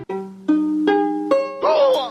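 An out-of-tune bowed-family orchestral string instrument is plucked, playing four sustained notes in turn, ringing slightly sour and unsettled, ending with a brighter strum that wavers in pitch.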